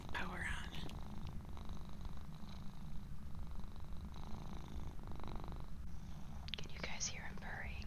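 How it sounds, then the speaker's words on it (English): A kitten purrs close into an ASMR microphone, a soft, continuous rumbling throb with faint breathing, while a person whispers over it at low volume. "Can you guys hear him purring?"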